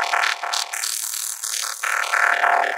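A gritty synth lead for forest and darkpsy plays a fast sequence of lower-velocity notes with a harsh, noisy, buzzing texture, loud and continuous throughout.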